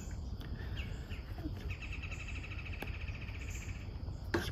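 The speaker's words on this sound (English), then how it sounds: "I'm on the porch, that's the reason for the bird sounds." Birds chirp outside near a porch, with scattered short tweets and a thin, repeated call over a faint, steady background hum.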